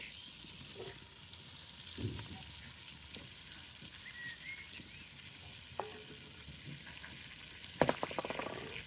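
Onion frying in butter in a pan over an outdoor campfire, a faint, steady sizzle with occasional soft clinks and knocks, ending in a short burst of louder rattling clatter.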